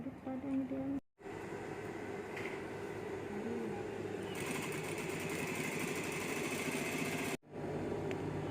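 A sewing machine stitches the seam of a hazmat protective suit, running as a steady close whirring drone that stops briefly twice.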